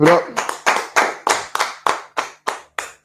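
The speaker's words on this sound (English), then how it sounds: "All right, Shalom, clap it up." An audience claps at a gathering in Harlem, New York, in about ten distinct, rhythmic unison claps that stay near and loud, then gradually weaken toward the end.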